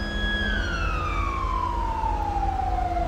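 A GTA V police car siren winds down, its loud electronic tone sliding steadily lower over a few seconds as the wail dies away, with a constant low engine rumble beneath and no voices.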